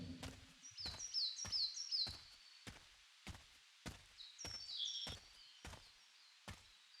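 Birds chirping in the Path of Zen video game, bright trilling calls over a steady run of sharp, evenly spaced thuds like footsteps or chopping, moderately loud and with no speech.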